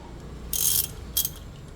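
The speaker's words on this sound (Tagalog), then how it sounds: "So kailangan nyo ng wrench." 10 mm ratchet wrench clicking on a bolt of a Bristol Venturi 500 scooter, two short close ratcheting bursts against quiet background.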